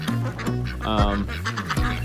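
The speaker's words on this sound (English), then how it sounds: "we got 12 silver Appleyard ducks" A flock of silver Appleyard ducks on a farm quacks close by in loud, nasal bursts, several calls overlapping in quick, uneven succession with no speech over them.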